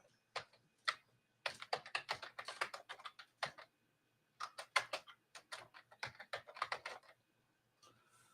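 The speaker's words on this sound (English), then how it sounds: "now I enter my password" Someone types a password on a computer keyboard while logging in on a Mac, producing bursts of rapid, close key clicks separated by short pauses, with no talking.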